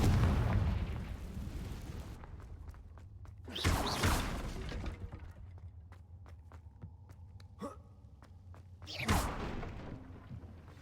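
Confringo fire spell explosions in the video game Hogwarts Legacy, several loud booming bursts with rumbling decay, separated by quieter stretches with light clicks and footstep-like ticks, no talk.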